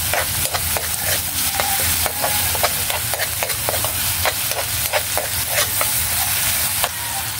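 Eggplant and sardines are stirred in a frying pan, giving a loud, continuous sizzle with rapid, regular scraping clicks from the spatula and no voices.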